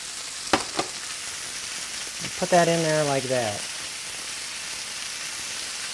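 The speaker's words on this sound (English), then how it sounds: "You can hear it sizzling." Frozen vegetables tipped into a hot pan on medium-high heat start a close sizzle after a couple of sharp clunks, with a brief spoken aside over the start and a steady hiss continuing after.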